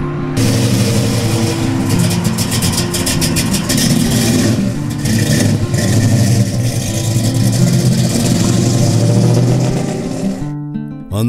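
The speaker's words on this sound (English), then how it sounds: "I took the motor out of a 1999 Toyota Tercel and put it under the hood." A car running on a 1999 Toyota Tercel engine swapped under its hood, a loud, steady mid-pitched motor hum held close for several seconds with slight rises in revs before cutting off abruptly near the end.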